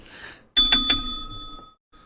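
A bright metal bell rings three quick times close by, its tone ringing out and fading over about a second, with faint background noise before it.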